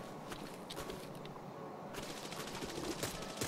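Rapid automatic gunfire from the video game Arena Breakout Infinite, a sustained burst of shots with no voices, growing slightly louder toward the end.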